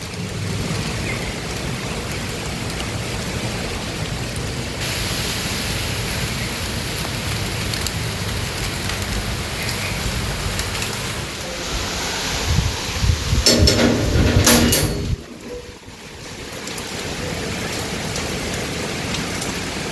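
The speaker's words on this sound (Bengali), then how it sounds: "বাজও পড়ছে, বৃষ্টিটা সেরকম অর্থে এই শুরু হচ্ছে, কিন্তু হাওয়াটা দেখো।" Rain begins to fall amid thunder and gusting wind on an early morning outdoors, a steady close hiss with a louder rumbling surge near the end before it briefly drops away and then returns.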